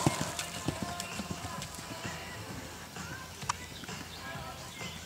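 Horse cantering on the right lead in a dressage arena, hooves thudding in a steady three-beat rhythm at moderate distance, with a commentator's voice over it.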